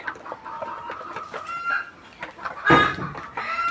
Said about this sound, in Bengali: তো এইখানেই কিন্তু আমার মুরগি ডিম পাড়ে।